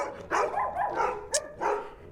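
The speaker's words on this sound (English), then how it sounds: "I hope you can hear me over all these really cute dogs" Several dogs, a Dalmatian among them, bark and yip in a quick series of short, moderately close barks with brief gaps.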